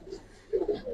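A Giribaz pigeon, a silver-coloured bird, gives a few soft, close coos that come in short bursts near the end, with low background noise between them.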